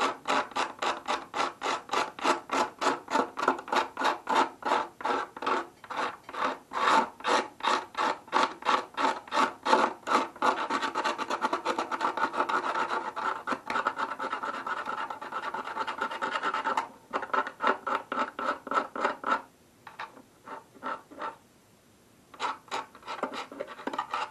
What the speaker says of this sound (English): I bought these by mistake, but they work really well for scraping glue